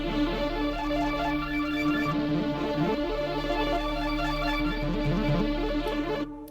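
Layered synth pads and leads run through a resampler and chorus play a busy, shimmering pattern of rippling notes over a steady low drone, wide and sustained, with no voices.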